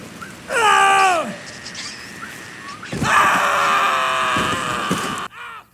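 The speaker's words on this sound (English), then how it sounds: "He lay there screaming and whining." A man in Red Dead Redemption 2 screams and whines in pain, a loud drawn-out wail falling in pitch, followed by a longer strained, groaning cry and a brief final gasp, heard alone without speech.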